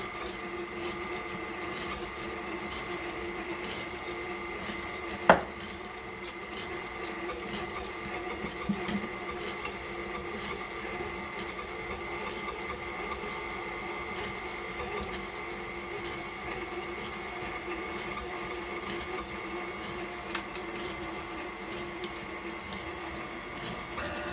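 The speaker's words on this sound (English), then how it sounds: "So I'm going to turn on my mixer on low." An electric kitchen mixer runs on low speed through sponge cake batter, giving a steady, even motor whir that continues for the whole stretch, with one sharp knock partway through.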